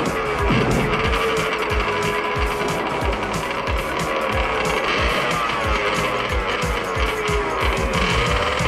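A cartoon character turned into a scooter speeds along in a continuous loud whine of motor and rushing noise, with skidding, squealing tire effects and busy sound effects throughout.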